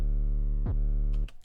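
An 808 bass with a distortion effect plays a long sustained low note rich in stacked harmonics, gliding briefly, then a second note starts before a short noisy tail as the sound cuts off.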